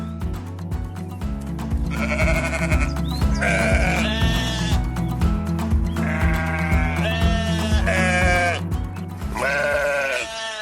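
Several sheep bleat repeatedly on a farm, loud and close, with overlapping calls over a steady rhythmic mechanical hum.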